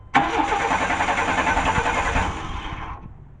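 A 1994 Chevy Cheyenne truck with no spark cranks over without firing, its starter churning loud and close for about three seconds before stopping.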